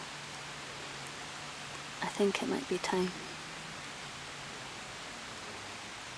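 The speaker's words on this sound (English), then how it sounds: "The rain is getting quite heavy now." Steady heavy rain falling in a park fills the background as a constant dense hiss, with a close, soft-spoken voice talking briefly over it midway.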